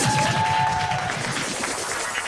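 An audience claps at a World TV Day event after a sung performance, a dense, even wash of applause that holds steady and slowly tapers.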